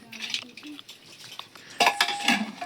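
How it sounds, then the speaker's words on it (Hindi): A home kitchen pressure cooker being shut over rice, with metallic clanks and scraping of the lid against the pot, a louder clatter near the end, close and brief with no talk. "अब मैं इसको बंद करके रखे दे रही हूँ"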